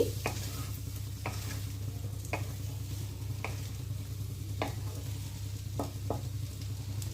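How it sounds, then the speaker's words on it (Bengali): Broccoli frying with a spice mix being stirred in makes a soft, even sizzle. Periodic sharp spatula scrapes and taps sound over a low background hum, close by, with no talking. "এবার সব ব্রকলি ফ্রাইতে মশলাটা মিশিয়ে দিচ্ছি।"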